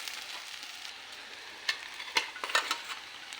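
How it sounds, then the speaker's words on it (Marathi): Sabudana (sago pearls) tipped into a ladleful of hot oil and stirred, giving a soft steady sizzle with a few sharper scraping knocks of the spoon toward the end; close and fairly quiet, no talking. "आता यामध्ये आपल्याला पळीभर तेल घालून घ्यायचं आहे। त्यामध्ये खिचडी, त्यामध्ये साबुदाणा हा घालायचा आहे"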